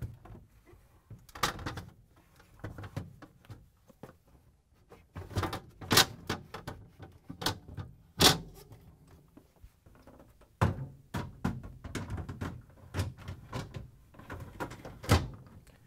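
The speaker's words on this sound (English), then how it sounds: "The upper shelf and drawer go in the same way." The shelf and drawer of a Whirlpool refrigerator slide back onto their rails, giving scattered plastic clunks, knocks and rattles spread over about sixteen seconds, fairly quiet and close with short pauses between handling noises.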